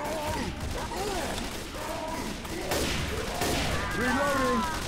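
Gunfire from the zombie shooter Left 4 Dead 2: a dense, noisy wash of shots with a couple of sharper bursts late in the clip, heard under continuous talking players.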